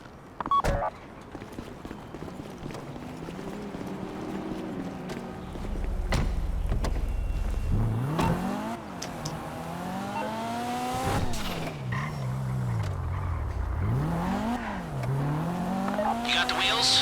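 In GTA Online, a car drives with engine revs that rise and fall as it shifts, punctuated by tire squeals and skids, alongside game noises and speaking voices.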